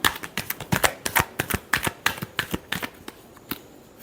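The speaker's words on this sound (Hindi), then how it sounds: "last shuffle" Tarot cards are shuffled in a quick run of crisp, close riffling snaps, about a dozen bursts in a steady rhythm before tapering off.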